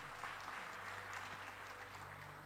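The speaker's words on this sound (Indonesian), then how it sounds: "Kasih tepuk tangan buat Tuhan Yesus." Dense, steady clapping from a church congregation fills the space during a sermon, sustained throughout at even loudness, with a faint low musical hum beneath.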